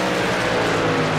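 Race trucks roaring past at Las Vegas Motor Speedway in a brief, steady blur of engine drone, fairly loud, with no talk.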